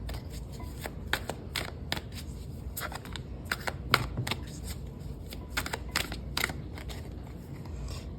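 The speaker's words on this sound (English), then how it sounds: "I had those two cards and I shuffled them really well" Rapid riffling and snapping of tarot cards being shuffled, repeated in quick bursts of clicks, close by with no talking.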